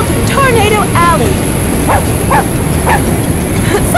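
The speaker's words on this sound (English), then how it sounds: "Such a smart dog." Toto the dog barks in 3-D Ultra Minigolf Deluxe on the Tornado Alley course, a few sharp yips and barks over steady game background noise.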